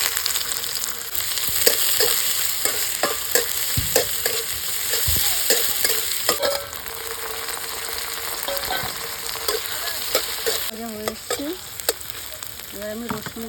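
Chopped onion and cumin seeds fry in mustard oil in a pan, a loud steady sizzle broken by repeated scraping and clinking stir strokes, with no talking.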